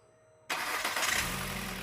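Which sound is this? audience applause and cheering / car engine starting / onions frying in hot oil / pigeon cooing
car engine starting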